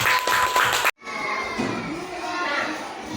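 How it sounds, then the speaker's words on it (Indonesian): A classroom of children cheers and claps for a group presentation, loud and lively, with shouting voices. A brief abrupt break is followed by more crowd noise and chatter. "Ayo tepuk tangan kepada kelompok 1."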